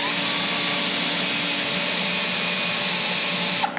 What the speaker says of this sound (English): this piece of steel is acting like a drill guide, so that way I drill it nice and straight